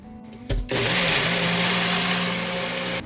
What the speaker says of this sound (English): Let's give her a blend.